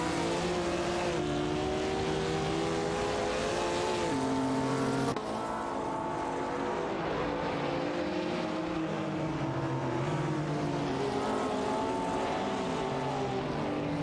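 Race cars speed around the track in an AI racing video game, their engines wailing continuously with shifting pitch. Partway through, the sound cuts to another car's engine, and no one speaks.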